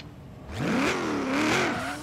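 A car with an LS1 engine revs hard in the racing game Forza Horizon 3, the pitch sweeping up and falling back twice in a loud, close whine over a low idle.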